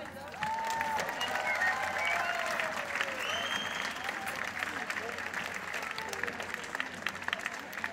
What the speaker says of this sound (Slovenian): dajmo še en velik aplavz